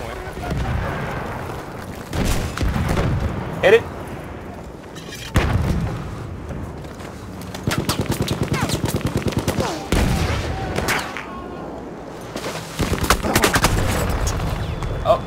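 Gunfire and explosions from a tank battle in Battlefield 1's Sinai Desert rush mode, loud bursts of shots and booms recurring every couple of seconds over a constant rumble of combat, with a player talking over it.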